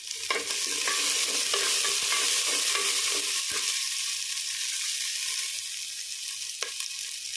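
Whole small garlic cloves and a sprig of curry leaves frying in oil for kara kulambu, a loud continuous close sizzle with a few scraping stirs early on.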